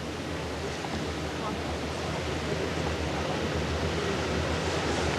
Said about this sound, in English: It's a permanent waterfall that runs all year round.